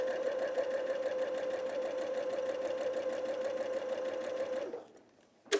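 A sewing machine runs steadily at close range, stitching quilting fabric in one even, continuous hum that stops abruptly near the end, followed by a brief soft knock.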